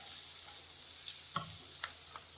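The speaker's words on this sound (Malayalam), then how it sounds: "ഇതിലേക്ക് നമ്മൾ മഞ്ഞൾപ്പൊടി ഇട്ട് കൊടുക്കുകയാണേ" A spoon scrapes and stirs turmeric powder into roasted coconut in a pan while preparing a squid curry. The sizzle is low and steady, with a few sharper scrapes near the end.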